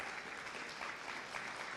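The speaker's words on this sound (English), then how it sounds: "And we give her a big round of applause" An audience at a TVET summit and exhibition applauds, a steady wash of many hands clapping that holds evenly throughout the short stretch.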